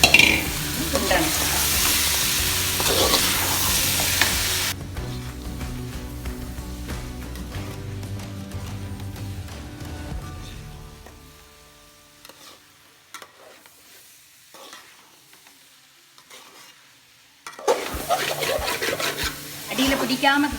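Beef curry with onion paste is stirred in coconut oil, a spoon scraping and rubbing against the pan over a sizzling fry, fading to near silence before the scraping briefly returns, with occasional speech.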